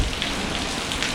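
Pouring rain near a waterfall, a dense steady hiss of drops hitting surfaces, close and unbroken with no voices.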